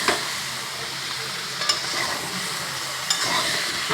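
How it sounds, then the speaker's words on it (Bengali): Spice paste sizzles steadily in a hot pan as it is stirred, with a couple of sharper scraping clicks from the utensil; close and continuous, with no voices. "মশলাটা একটু এদিক ওদিক করে আমি নেড়ে চেড়ে দেবো বন্ধুরা"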